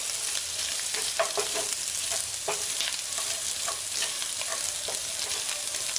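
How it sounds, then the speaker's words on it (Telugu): A simple Telugu-style chicken fry is stirred in a pan on the stove, giving a steady close sizzle with scattered scraping and clacking stir strokes throughout. "ఇప్పుడు బాగా కలుపుకొని 2 మినిట్స్ తర్వాత స్టవ్ ఆఫ్ చేసుకోవాలి."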